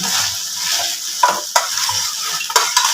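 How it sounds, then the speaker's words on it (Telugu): Deep-fried chicken pieces being stirred in an oil-slicked pan for Andhra-style chicken 65, with a steady close sizzle and a few sharp scrapes and clanks of the spoon against the metal. "ఇప్పుడు మనం ముందు డీప్ ఫ్రై చేసుకున్న చికెన్ మొత్తం ఇందులో వేసేసుకోవాలి ఇప్పుడు మంచిగా కలుపుకోవాలి"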